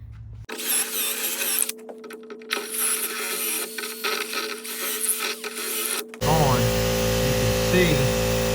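A drill bores a hole into a wooden breadboard end, giving an uneven mechanical whir with a voice in the background, then a louder, steady grinding roar for the final two seconds.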